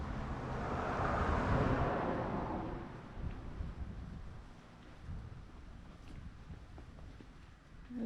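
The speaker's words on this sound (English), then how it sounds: "Wind is blowing." Outdoors, wind gusts hard against the microphone in a loud rushing buffet that eases into a lower, steadier roar with lighter gusts.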